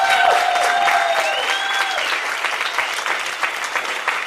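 Audience applause in response to a question about legalizing marijuana, a loud burst of crowd clapping that gradually thins, with a whistle or cheer rising over it early on.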